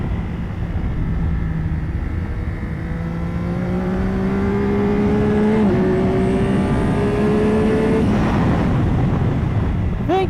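A 2025 Yamaha R9 motorcycle on a race track, its engine droning steadily and climbing in pitch through gears with quick shift dips, loud and continuous with wind rush throughout.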